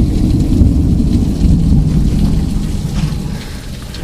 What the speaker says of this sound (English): This is what you call a supercell storm